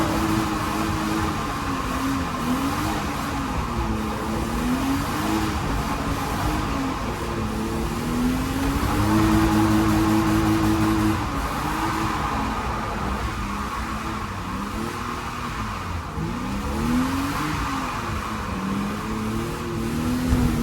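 A race car laps a slippery track, its engine droning steadily with rising and falling revs as it moves through corners, continuous and fairly close for the whole stretch.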